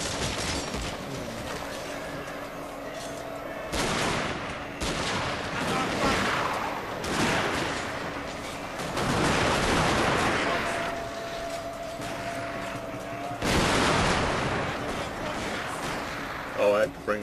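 Massed matchlock volleys crackle in a Shogun 2 Total War online battle, with dense bursts of gunfire rolling in waves over a constant battlefield din, and a player talking over it.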